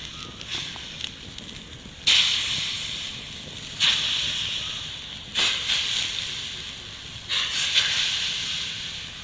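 Cleaned pearl spot fish (karimeen) dropped into a hot clay pot, giving a steady sizzling hiss that swells in several bursts as more pieces go in, close and fairly loud.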